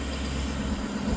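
A 2017 Ford F-350 with a 6.7-litre diesel engine idles, giving a brief, steady, dense rumble up close with no voices.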